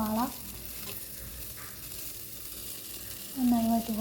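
Sliced onions hitting hot olive oil in a pan for a prawn biryani, giving a steady, close sizzle and frying hiss, with a voice speaking briefly at the start and again near the end.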